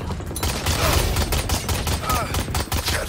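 Rapid bursts of gunfire aimed at a bot in a video game crack out in a dense, irregular volley, loud and close.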